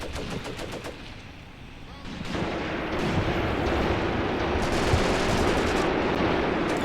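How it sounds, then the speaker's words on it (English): Mortar and artillery fire on a World War II battlefield in Graviteam Tactics: Mius-Front, with rattling gunfire early, then a dense continuous rumble of distant blasts and shots, with a voice talking over it. "Oh, no, that is a mortar."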